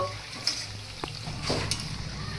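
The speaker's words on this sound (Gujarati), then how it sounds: "હવે આપણા બીજા ભજીયા પણ તળાઈને રેડી થઈ ગયા છે" Potato bhajiya deep-fry in hot oil with a steady, close bubbling sizzle and a few light stirring clicks, no voices over it.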